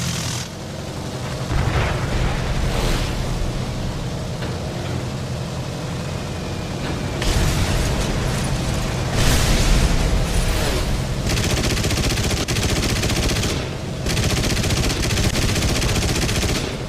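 Explosions and gunfire during a bombing run in War Thunder, a loud continuous roar of engine and blasts with bursts of booming and crackling impacts throughout, no talk.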